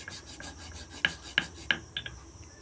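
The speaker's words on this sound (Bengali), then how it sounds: "চন্দন বেটে নিলাম" Sandalwood rubbed and ground into paste on a stone for a Shiva worship ritual, giving soft rasping strokes with a few sharper scrapes, close and quiet, with no talking.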